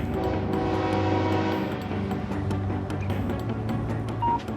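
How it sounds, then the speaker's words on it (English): A train in the Canadian Rocky Mountains rumbles steadily through a tunnel with layered low mechanical droning and rail noise, loud and close throughout, with a brief higher tone near the end. "we have our first train coming, and he should be coming through this tunnel here"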